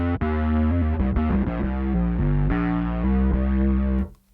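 Bass guitar played through a Darkglass Kaamos distortion with chorus added, a thick, saturated run of sustained notes and note changes, loud and close, cutting off abruptly at the end.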